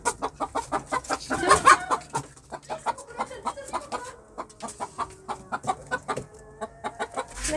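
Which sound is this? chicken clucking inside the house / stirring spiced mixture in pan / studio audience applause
chicken clucking inside the house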